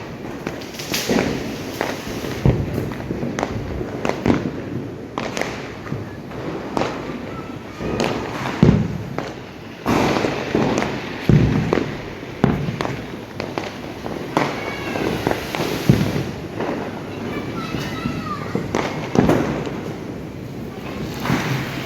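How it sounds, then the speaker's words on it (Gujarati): Diwali fireworks and firecrackers go off in a dense, uneven series of sharp bangs and cracks, some near and loud, others farther off, continuing over the whole stretch with no talking. "બહુ ઓછા દેખાય છે ફટાકડા જોવા માટે જો"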